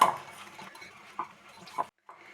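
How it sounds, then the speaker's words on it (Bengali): Flour and baking powder mixed in a bowl for jalebi batter, with a few light clinks and scrapes of a utensil against the bowl and a short pause near the end. "ভালো করে মিশিয়ে নিচ্ছি ময়দা আর বেকিং পাউডারটা"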